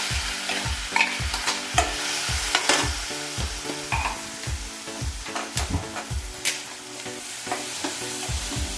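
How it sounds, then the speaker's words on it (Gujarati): Cumin, turmeric, curry leaves and onion fry in hot oil while a spoon scrapes the pan in a steady, rhythmic back-and-forth, each stroke clear and close over a constant sizzle. "જીરું નાખીશું, સેજ કલર માટે હળદર નાખીશું, મીઠા લીમડાના પાન નાખીશું અને અનિયન નાખીશું"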